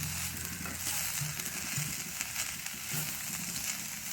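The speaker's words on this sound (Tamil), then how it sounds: "வறுத்தெடுத்தல்." Fish slices frying on low heat in a pan of oil, a steady close sizzle with soft crackling that runs without a break and no voices.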